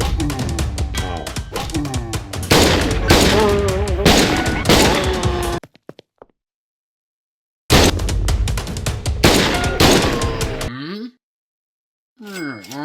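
Gunfire in the video game Schedule I during a shootout with police, loud bursts of rapid shots in two stretches separated by silence, with a few scattered sounds after.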